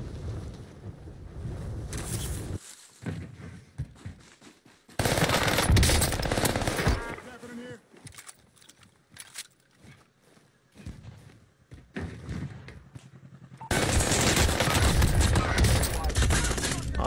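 Gunfire rattles in an online multiplayer shooter match, with loud bursts of rapid automatic fire broken by quieter gaps, and a player talks at times between the volleys.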